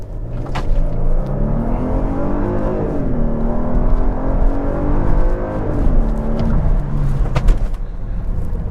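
2023 Genesis GV80 3.5T accelerating hard from a dead stop, engine note climbing steadily through gears with brief dips at shifts, loud cabin rumble and no talk.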